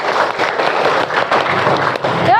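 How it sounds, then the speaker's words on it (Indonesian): Steady, dense applause from an audience fills the clip at even loudness, ending with a brief whistle-like tone. "Beri tepuk tangan."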